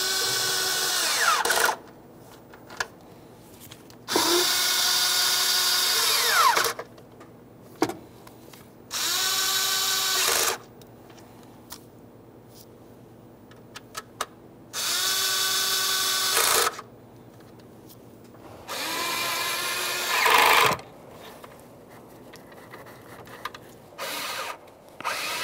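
Power tool snugging ignition coil bolts on a 2015-2020 Ford F-150 3.5L V6, five separate whirring bursts of a few seconds each with short quiet gaps and small clicks between them.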